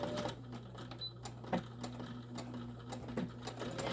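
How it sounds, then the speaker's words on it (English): A sewing machine stitches around the edges of a tote bag, a steady close mechanical hum broken by regular rattling ticks and a few brief pauses. "you're going to sew all around the edges"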